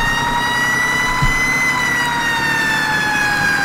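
A fire engine siren in Farming Simulator 17 wails loudly and continuously over a low engine rumble, its steady tone drifting slightly in pitch throughout.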